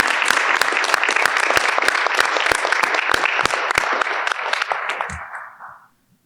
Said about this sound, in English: I just wanted to start with an applause and a thank you for that.